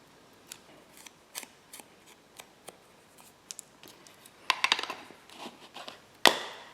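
Scissors trimming the edge of a paper journal page: a series of small, sharp snips spaced out, then a quicker cluster of cuts and one louder final snip, close and alone.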